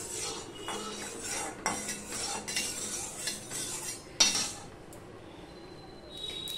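A spatula spreads hot oil around the sides of a heated wok, making intermittent metallic scrapes and light clinks against the pan, quiet and close.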